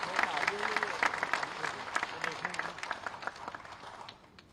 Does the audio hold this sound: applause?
yes